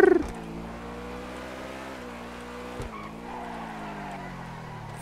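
A tuned Toyota Supra racing at high speed in FiveM (GTA V), a steady, loud engine drone held at high revs with a brief gear-shift dip midway, alone without talk.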